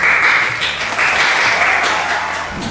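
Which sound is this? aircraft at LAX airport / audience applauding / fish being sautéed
audience applauding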